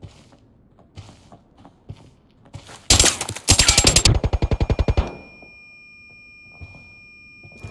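Ace 31 sniper rifle firing in the video game Arena Breakout: a couple of sharp loud reports followed by a rapid burst of mechanical clicks and rattles, with a faint ringing tone lingering afterward amid quiet scuffing.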